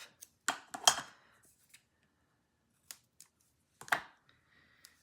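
Scissors snipping a foam adhesive dimensional in half, a few crisp close cuts clustered at the start, then sparse single snips with quiet between.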